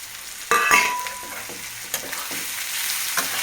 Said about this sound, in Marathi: आता आपण कांदा टाकतो कांदा आणि बटाटा आता सगळेच टाकते मी